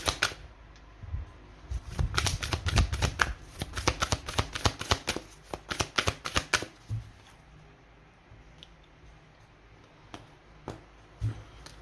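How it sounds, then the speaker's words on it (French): Tarot and oracle cards shuffled in quick riffling bursts, then slapped down one by one in sparser, separate taps, close and crisp with no talking. "On pose les 9 cartes."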